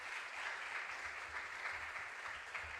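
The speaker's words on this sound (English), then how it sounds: "A round of applause for them." Faint, steady applause from an audience at a junior science and maths quiz for school contestants in the Ashanti Region, an even patter of clapping that holds for about three seconds.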